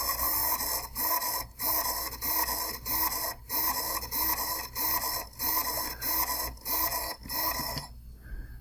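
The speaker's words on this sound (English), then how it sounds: "So I should see my servo sort of stutter between 3 positions, 0, 90, 180, back to 0." A small servo motor repeatedly stutters between 0, 90 and 180 degree positions, making rhythmic whirring buzzes with short pauses about every half second, close and fairly loud, before stopping.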